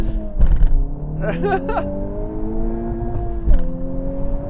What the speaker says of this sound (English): For this last launch, I'm going to try just sidestepping the clutch, see what happens.